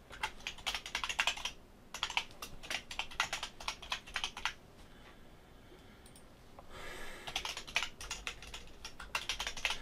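Rapid keyboard typing while entering details into an online form, bursts of close, crisp key clicks separated by short pauses, with no voices.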